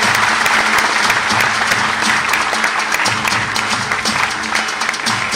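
A large audience at an appointment letter ceremony claps steadily and loudly throughout, a thick, even wash of applause with no talking.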